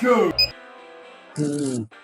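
A kitchen-style timer is set and started at the start of a 20-minute fast-food burger eating challenge, giving short electronic beeps and a button chirp, with a brief gap and further tones near the end.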